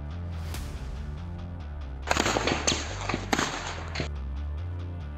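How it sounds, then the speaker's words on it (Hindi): Rapid gunfire bursts out during an army encounter in Jammu and Kashmir, a cluster of sharp cracks and pops starting around two seconds in, with several spaced loud reports over a background hum. "देखिए कैसे ताबड़तोड़ चल रही है पाकिस्तानी आतंकी पर गोलियां।"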